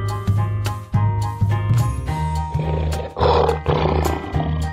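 A lion roars loudly in repeated bursts over a pulsing rhythmic music bed.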